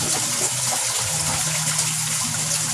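Beneficial bacteria liquid is poured out, making a loud, continuous close gush of liquid with a low steady hum underneath and no talking.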